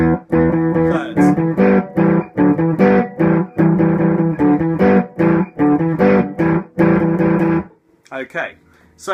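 Distorted electric guitar riff voiced with added thirds, thick chord stabs hammered in a choppy repeating pattern, loud and close, ending with a few softer ringing notes.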